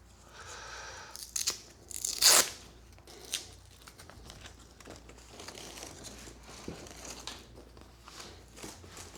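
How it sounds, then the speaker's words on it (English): Velcro rips loose from the seat of a Triumph Scrambler 1200 XE motorcycle in one sharp, loud tearing burst, followed by quieter rustling and handling noises close up. "seat off and unhook the Velcro"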